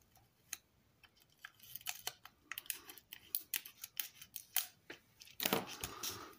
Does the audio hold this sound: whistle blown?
no